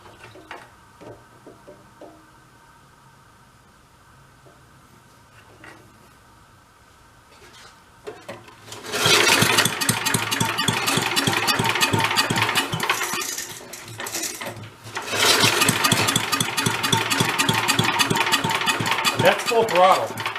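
A vintage Mite-e-Lite generator engine, abandoned and being revived, is quiet at first, then bursts into loud, rattling running at full throttle, dips briefly, and roars back up, with faint talk early on.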